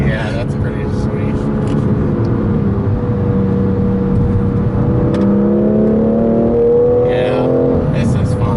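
A BMW M2 with a manual gearbox accelerating hard on a back road, its engine note droning loudly inside the cabin and climbing steadily in pitch.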